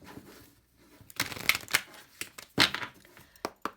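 A deck of oracle cards is shuffled by hand nearby, with soft riffling slides and quick papery flutters coming in a few uneven bursts between quiet pauses.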